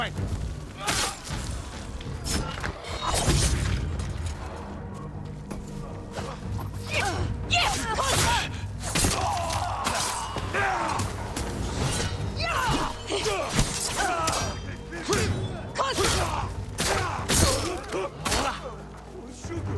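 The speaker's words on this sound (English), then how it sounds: "Smoke bomb." Combat sounds from the video game Ghost of Tsushima as a smoke bomb goes off among Mongol enemies: thumps, whooshes and clashing bursts over a dense, continuous game soundscape, with a person talking over it.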